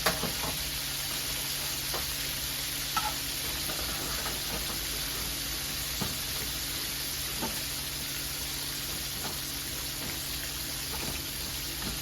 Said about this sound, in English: So y'all see how it's frying up?